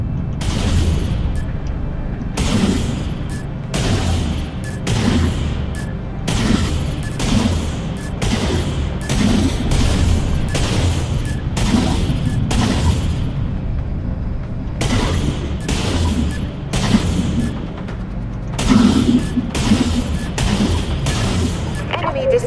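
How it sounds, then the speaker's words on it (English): Space battle video game combat: a rapid series of heavy explosions and missile blasts, bursting every second or so in a loud, continuous barrage over a rumbling background, with occasional speech mixed in. "just the details of all the explosions"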